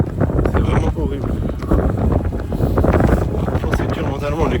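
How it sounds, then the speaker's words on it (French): Strong wind buffets the microphone in an open field during a trail run, with gusty low rumbling that rises and falls. A person's voice is heard under the wind noise. "En fait, on est sur un champ, il y a le vent qui tabasse."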